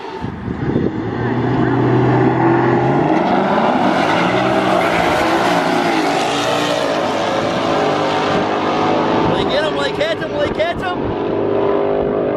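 Drag race cars launching down the strip, a nitrous car against a turbo car, a loud sustained roar and whine rising and shifting over about twelve seconds, with voices underneath.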